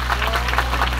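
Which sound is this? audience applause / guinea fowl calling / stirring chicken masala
audience applause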